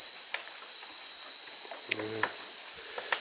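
A steady, high-pitched cicada buzz drones continuously, made by its wing movement, with a brief low voice murmuring partway through.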